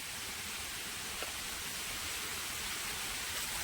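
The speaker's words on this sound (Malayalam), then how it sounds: "വലിയ വെള്ളച്ചാട്ടമാണ് കേട്ടോ" A large waterfall, running low on water, gives a steady, unbroken roar of rushing water that fills the whole stretch evenly and stays constant throughout.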